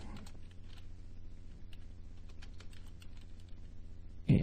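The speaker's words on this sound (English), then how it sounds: "let's go ahead and just type in mouse" Keys tapped on a computer keyboard while entering input settings in Unreal Engine, a steady stream of soft, close clicks running for several seconds and ending in a louder knock.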